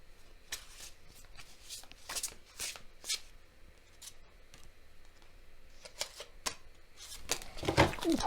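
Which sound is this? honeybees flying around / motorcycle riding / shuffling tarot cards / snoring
shuffling tarot cards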